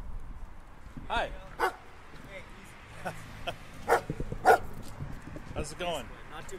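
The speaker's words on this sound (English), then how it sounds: "a beautiful Bernese mountain dog named Bentley" A Bernese mountain dog named Bentley barks in short, scattered yips and woofs at a front door, fairly quiet and interleaved with people talking nearby.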